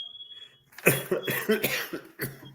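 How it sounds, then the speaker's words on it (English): Several harsh coughs burst out in a short cluster, close and fairly loud, after a thin high tone fades at the start. "He's coughing"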